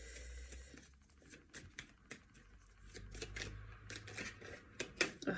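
Tarot cards shuffled and dealt by hand, a quiet run of soft riffling taps and flicks at close range with brief crisp snaps toward the end, no talk.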